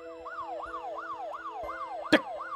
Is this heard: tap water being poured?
no